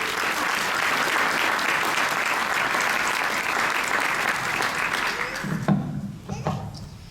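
A crowd applauds loudly and steadily for four young women at the Miss Gibbon coronation, a dense wash of clapping that fades out at the end as a few voices and scattered claps remain.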